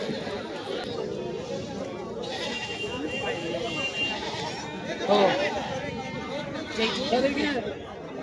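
Goats bleat a few times amid a busy crowd of people talking and chattering at the Koregaon goat market in Satara.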